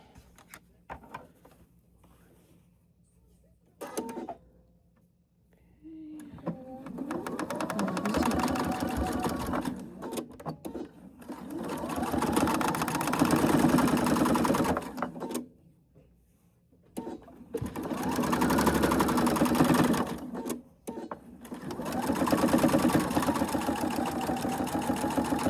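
A sewing machine stitches a quarter-inch seam along fabric binding tape in three long bursts separated by brief pauses, with light handling noise in the quiet gaps.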